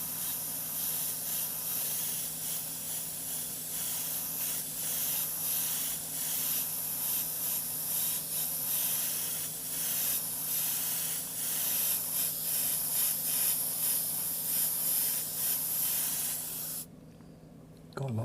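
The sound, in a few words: airbrush spraying paint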